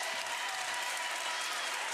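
Indoor crowd at a pickleball championship match breaking into dense, steady applause and cheering, loud and continuous with no gaps.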